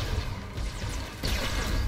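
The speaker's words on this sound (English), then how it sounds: "The intruder smasher droid is in fact smashing us right now." An intruder smasher droid attacks in Star Wars: The Old Republic combat, a dense, loud wash of crashing and whooshing impacts that continues without pause and swells near the end.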